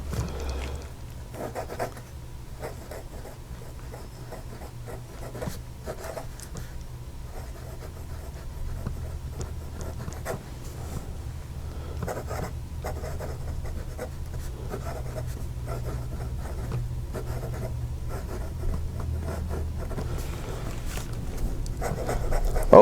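A Wearever Pennant fountain pen writing Pilot Blue Black ink on paper, with faint close scratchy nib strokes in a steady stream of short movements, alone over a low background hum.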